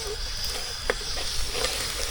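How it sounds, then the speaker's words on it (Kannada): Onions with kasuri methi sizzle in oil for mutton chops during outdoor village cooking on farmland. The frying is soft and steady, with a faint tap and no talking. "ಆಮೇಲೆ ಆನಿಯನ್ ಹಾಕಿ ಫ್ರೈ ಮಾಡ್ಕೊತಿದ್ದೀರಿ"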